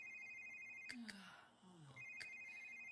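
A phone rings in the Sims 3 video game with repeated electronic trilling tones, briefly interrupted then resuming, faint over a quiet background.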